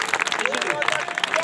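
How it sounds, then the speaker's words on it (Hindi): An audience claps and applauds at a Hindi kavi sammelan, a comic poetry gathering, with a dense, steady patter of hands that runs through the whole short moment alongside some voice. "निश्चित रूप से एक श्रेष्ठ रचना के लिए जोरदार तालियां एक बार आदरणीय महात्मा जी के लिए।"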